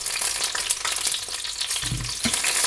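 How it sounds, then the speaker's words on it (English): Wet ingredients dropped into hot oil for a spaghetti al pomodoro spatter and crackle loudly up close, a continuous sizzle with sharper pops and a splashy burst near the end. "I'm just going to drop these into the oil, and they're spattering because they're a bit wet actually."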